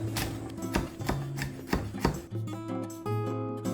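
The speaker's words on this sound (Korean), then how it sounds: "오이는 채 썰어주시고 고추는 총총 썰어주세요." A knife cuts cucumber into thin strips and chops chili pepper on a board. The taps are close, crisp and fairly steady, with no talking.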